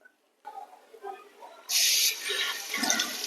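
Tap water gushes loudly while an adult hedgehog is bathed, starting suddenly after someone talks and then running steadily with some splashing.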